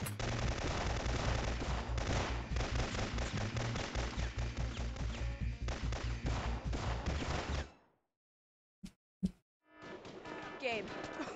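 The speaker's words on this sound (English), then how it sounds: "the firing squad" Rapid, continuous gunfire from a firing squad in the Syphon Filter video game rattles loudly for several seconds, stops abruptly, then a couple of isolated shots ring out before a denser burst resumes.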